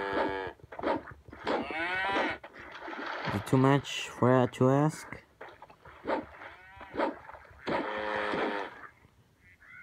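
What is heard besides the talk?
cow mooing in video game Survival Craft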